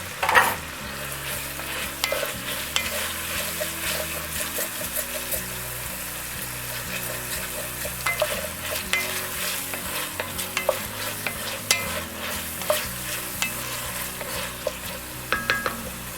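Chicken pieces for a keto peanut curry sizzle steadily in a hot pan while being stirred, with frequent scrapes and clinks of the utensil against the pan over a continuous frying hiss.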